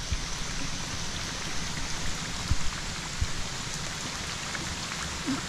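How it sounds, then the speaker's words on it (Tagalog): Steady rain pours down in a dense, even hiss that lasts throughout, with a few louder drips or taps standing out here and there and no voices. "Itong ulan."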